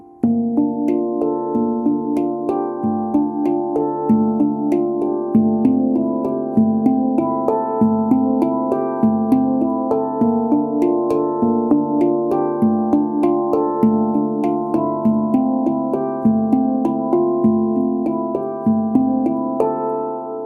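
Handpan rings out a flowing arpeggio pattern with its highest note changed, producing soft, resonant metallic tones in an even, repeating rhythm that sustains and overlaps throughout, close and unaccompanied.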